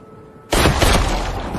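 A sudden loud bang breaks a quiet background, followed by a dense crackling burst that keeps going, like a gunshot in a chaotic scene.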